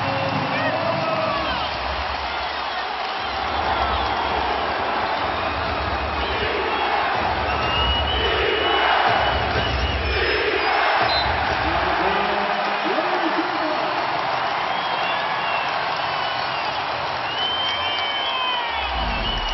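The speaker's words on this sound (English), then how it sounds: "the crowd is back here in Portland. They got some life right now" Basketball arena crowd in Portland roaring and cheering through an NBA playoff game between Dallas and Portland, a sustained loud swell with rising bursts of noise and an announcer talking over it.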